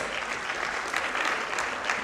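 A church congregation clapping their hands together, a dense and continuous wash of many claps at steady volume, close and lively, with no voices standing out.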